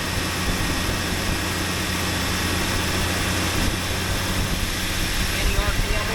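The engine of a DIY alternator welder runs steadily with a continuous rumble and hum as its throttle is set by a manual knob and cable, with talk over it.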